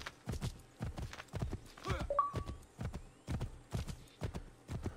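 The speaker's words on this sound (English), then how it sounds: "Was it from me riding a horse?" In the video game Assassin's Creed III, rhythmic clip-clop of horse hooves trotting steadily, with a brief whinny in the middle and a faint voice underneath.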